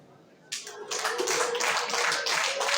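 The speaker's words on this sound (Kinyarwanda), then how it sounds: "Amashyi menshi, inka yakira mu mashyi n'impundu." An audience at a 25-year religious jubilee celebration breaks into loud, sustained clapping that starts suddenly and swells into a dense, continuous wash of applause.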